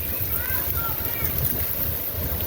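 Strong tornado wind roars steadily through trees, with constant loud buffeting and rumble against the microphone and faint voices mixed in underneath.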